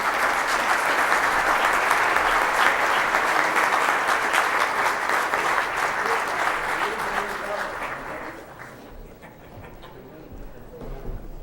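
A conference audience gives a panel a sustained burst of loud applause that gradually thins and fades toward the end, with some murmuring underneath.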